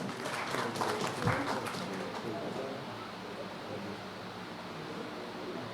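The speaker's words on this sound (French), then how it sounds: "Sous votre applaudissement." Audience applause at a conference on peace, unity and patriotism, a burst of clapping that peaks early and then thins into a steady, fainter patter from a mid-distance crowd.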